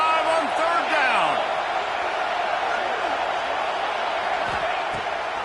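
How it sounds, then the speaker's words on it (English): Ohio State stadium crowd in the College Football 26 video game, a steady broad roar on third down with scattered whoops and rising whistles, loud near the start and easing slightly later. "The Buckeye crowd alive on third down."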